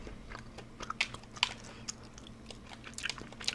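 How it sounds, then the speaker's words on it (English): Trident peppermint bubble gum being chewed close to the mic, soft wet crunches and clicks at an irregular rhythm over a faint low hum, with no talk. "We're also chewing a piece of Trident peppermint bubble gum."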